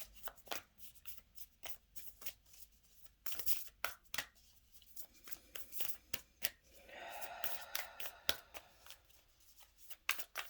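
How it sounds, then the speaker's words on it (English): A deck of tarot cards is shuffled close by and quietly, with a string of crisp riffling bursts and soft slaps repeating at an uneven pace, with no voices. "I'm going to last shuffle."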